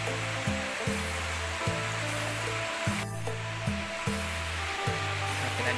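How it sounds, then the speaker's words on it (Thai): A waterfall on the Phu Sang Hae trail pours with a steady, full rushing roar. The sound is close and continuous and carries a faint pulsing rhythm underneath. "ซึ่งนี่ก็แม่นน้ำตก"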